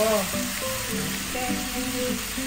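Chicken pieces browning in hot oil until crunchy, with a steady close sizzle and crackle running throughout, the fry noise slightly swelling and easing.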